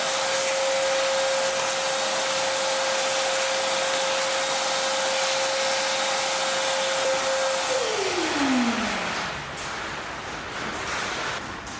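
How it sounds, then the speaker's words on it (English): A vacuum cleaner runs loudly and steadily while cleaning out an engine, then its motor winds down, the whine dropping in pitch as it shuts off near the end. "now that we've vacuumed all that out"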